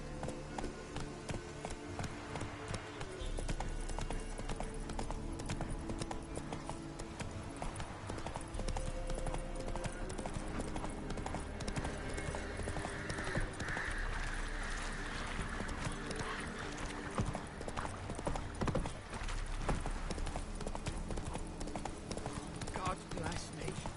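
A horse gallops in The Witcher 3, its hooves beating a quick, steady rhythm under game ambience, with a voice talking over it at times.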